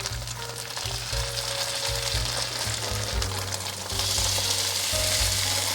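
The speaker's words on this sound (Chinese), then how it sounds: "另一面再让它煎成金黄色。" Food frying in a pan until golden, a loud continuous sizzle and crackle close by, growing slightly louder toward the end.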